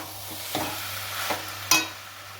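Chicken mince and boiled peas stirred in a wok, with a few scraping clatters of the spatula over a soft, steady sizzle.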